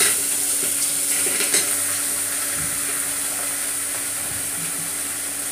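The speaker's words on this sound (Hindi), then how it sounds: "अब आलू भी फ्राई कर लूंगी" Potatoes fry with chilli powder in a pan, giving a steady, loud sizzle throughout with a few faint stirring knocks near the start, and nobody talking.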